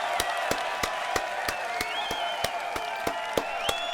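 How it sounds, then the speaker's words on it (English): A studio audience claps in a steady, even rhythm, roughly three claps a second, while voices talk over it and the crowd adds scattered cheers. "Hey, round of applause."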